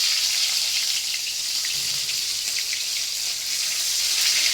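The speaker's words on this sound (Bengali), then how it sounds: "পোয়া মাছ হালকা ভাজা দিলে বাবা" Poa fish frying lightly in a pan gives off a steady, bright sizzle that holds at an even level throughout, with no talking.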